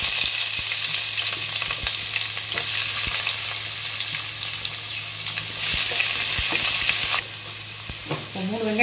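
Chopped onions fry in oil for egg biryani with a loud, close crackling sizzle, punctuated by repeated clinks and scrapes of a stirring spoon, the hiss briefly surging and then dropping lower near the end.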